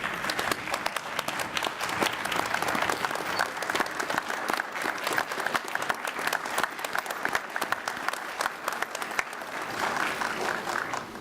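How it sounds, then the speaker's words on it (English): A commencement crowd at a law school graduation applauds steadily for about eleven seconds, dense sustained clapping filling the hall with no talk over it. "Let's stand and give them a round of applause."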